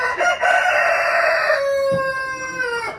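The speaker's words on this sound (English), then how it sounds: "A dang rooster." A rooster crows loudly and close by, one long drawn-out call with a rising then falling pitch, no voices present.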